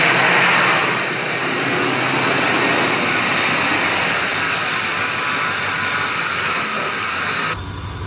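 A 1994 Chevy C1500 pickup truck, damaged on one side, drives along with a loud, steady engine drone and road rumble close by, fading slightly near the end, with no speech.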